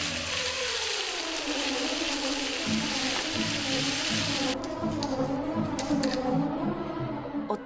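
Jukkumi bokkeum, stir-fried webfoot octopus in gochujang sauce, bubbles steadily in a pan with a constant close hiss of simmering liquid and no talk.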